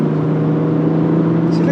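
A BMW M140i's engine drones steadily from inside the car while driving a B road, a constant low hum throughout with a person talking over it.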